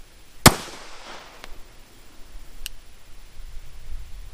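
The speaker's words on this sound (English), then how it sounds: "At the command of fire, you will fire 1 round." One sharp, loud pistol shot cracks out close by on a firing range during a Texas LTC handgun qualification, followed by a fading echo and a couple of faint ticks.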